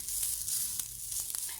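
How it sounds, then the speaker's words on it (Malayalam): Ginger, garlic and shallots frying in a pan over a low to medium flame for a Kerala-style chana curry, giving a steady close sizzle with scattered small crackles and no voices. "ഇനി ഇത് ഒരു ലോ ടു മീഡിയം ഫ്ലെയിമിൽ നന്നായി ഒന്ന് വറുത്തെടുക്കണം"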